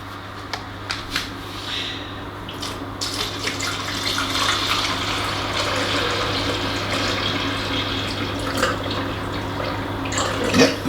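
Water runs steadily into a coffee machine for several seconds, a continuous splashing pour over a low, constant mechanical hum, with no talking.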